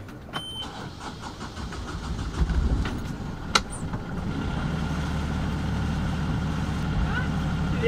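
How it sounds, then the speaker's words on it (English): A boat engine idles steadily with a low rumble, then stalls into quiet near the end, heard close by at anchor on the Mediterranean. "The engine just stalled."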